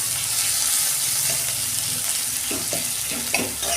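Onion and tomato fry in a pan at home, a steady close sizzle with occasional scraping stirs of a spoon toward the end.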